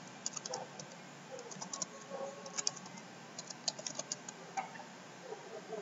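Faint, sparse computer mouse clicks and light key taps at a desk while navigating a WordPress Elementor site, scattered quiet ticks over a steady background hiss.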